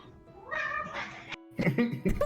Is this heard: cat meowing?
yes